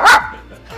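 A man imitates a dog, letting out one loud, sharp, close yappy bark like a small dog, which then fades into a quiet room.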